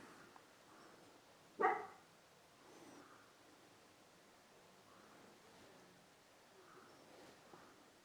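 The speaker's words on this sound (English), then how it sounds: "And I'm sorry about my dog barking in the background." An old dog barks once, faint and distant, in the background of a quiet home kitchen, with light rustling and low room noise around it.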